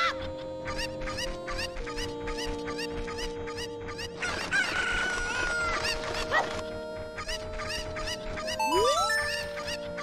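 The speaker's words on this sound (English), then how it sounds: "So I can get this chicken." Cuckoo chickens in Ocarina of Time clucking in repeated, rhythmic bursts over a steady musical drone, with one crowing call rising near the end.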